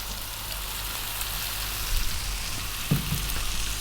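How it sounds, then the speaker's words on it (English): Cabbage hits a hot stir-fry pan over high heat for a tofu and cabbage dish, giving a constant close hissing sizzle with a brief clatter near the end. "Now immediately we're going to go in with all of our cabbage."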